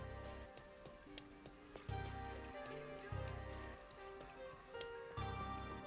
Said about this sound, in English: So there was a reason why it was raining.